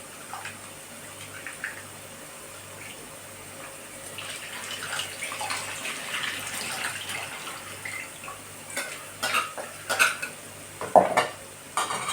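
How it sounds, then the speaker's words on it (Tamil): Tamarind water pours into a village-style dried fish curry, followed by a spoon scraping and clinking against the pot as it is stirred, with louder knocks toward the end. "புளி தண்ணியை கரைச்சி ஊற்றி கடலாம்"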